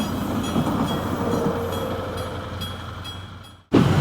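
A French TGV train on the Milan-Paris route rumbles past an Italian level crossing, a loud steady roar that slowly fades before an abrupt burst of close noise at the end.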